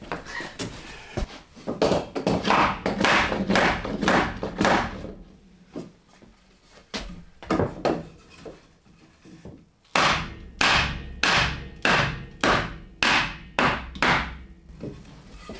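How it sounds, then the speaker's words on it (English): Repeated sharp hammer blows strike wood in two quick rhythmic bursts of around eight hits each, separated by a quieter pause, close and loud. "get a block of wood to tap this in with my hammer"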